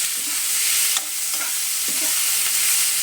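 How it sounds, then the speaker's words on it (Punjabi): Finely chopped onions and garlic fry on low heat in a pan for methi malai matar, a steady close sizzle broken by a few soft scrapes as they are stirred. "ਹੁਣ ਅਸੀਂ ਨੂੰ ਲਸਣ ਦੇ ਨਾਲ ਹੀ ਪਿਆਜ਼ਾਂ ਨੂੰ ਵੀ ਭੁੰਨਾਂਗੇ"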